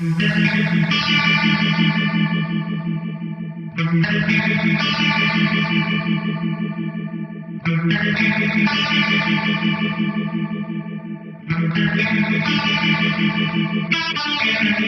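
A clean electric guitar through an Eventide Tricerachorus pedal on its Tribrato preset plays a repeating phrase with a shimmering chorus, ringing chords restruck every few seconds, full and sustained, with no voices.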